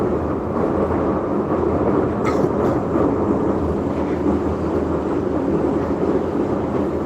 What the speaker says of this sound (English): Yeah, it's an older train.